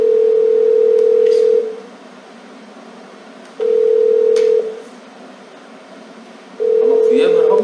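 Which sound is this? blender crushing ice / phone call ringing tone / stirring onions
phone call ringing tone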